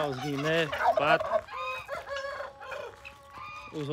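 A noisy chorus of poultry: harsh, repeated calls and cackles from guinea fowl with ducks and other birds, close by and overlapping, without talk.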